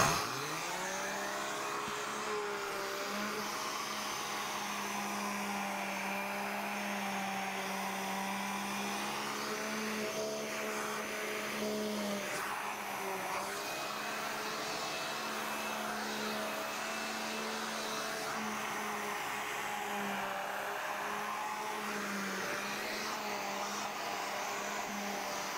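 A vacuum cleaner runs steadily on a hard floor, a continuous droning whine with a faint pitch shift partway through, close and alone without talk.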